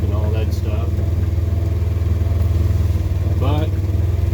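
A vehicle engine with a quiet stock factory exhaust idles steadily in a low, even rumble throughout, with a person talking over it.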